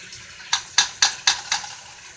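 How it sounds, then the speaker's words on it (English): A spoon scrapes through rice at a rolling boil in a pot on the stove, giving five evenly spaced, sharp strokes about a quarter second apart, close and fairly clear. "My rice has completely came to a rolling boil, so I will go ahead and stir it again."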